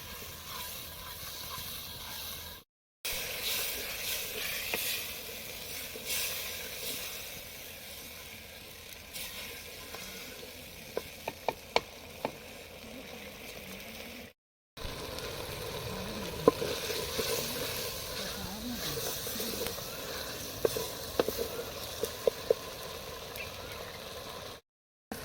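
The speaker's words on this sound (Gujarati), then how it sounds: "મસ્ત ચણાકેદાર તડતડ બોલે છે." Tomato paste crackles and sizzles in hot oil while cooking Patan-style peanut bhajiya curry, a steady loud frying hiss with scattered sharp pops, broken by two brief silent gaps.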